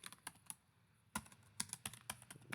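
Quiet, close typing on a computer keyboard while renaming a spreadsheet column: a handful of crisp key taps in an uneven rhythm, with brief pauses between short bursts.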